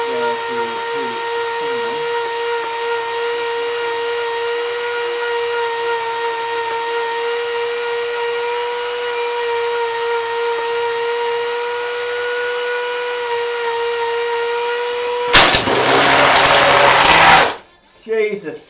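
A Dremel rotary tool with a sanding head whines at a steady high pitch for a long stretch, then a surgical glove catches in it, giving a sudden loud rough grinding burst that stops abruptly.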